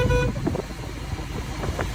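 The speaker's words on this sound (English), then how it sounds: "Listen to that horn." A car horn honks loudly and close at the start in a short harmonic blast, followed by road and vehicle noise, with a second faint honk near the end.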